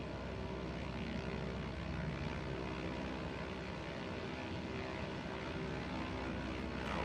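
A Cessna light aircraft's propeller engine drones steadily in Microsoft Flight Simulator 2024, a faint, continuous hum with no talk.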